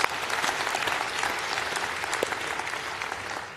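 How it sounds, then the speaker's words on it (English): An audience at a conference closing session breaks into steady, moderately loud applause, many hands clapping together in a continuous dense patter with scattered sharper claps standing out. "can I please have a round of applause for them as well?"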